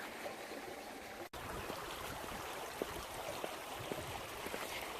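River water streaming steadily outdoors on a wild camping walk, a constant close babbling rush with small trickles and splashes, one brief dropout early on.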